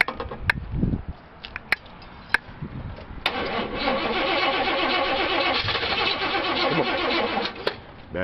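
An Oldsmobile Cutlass G-body engine with a weakening battery cranks after a few clicks and knocks, then settles into a steady labored churn, close and moderately loud.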